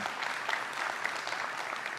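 Church congregation applauding together at a live worship service, a steady dense wash of clapping held at even loudness for two seconds with no talk.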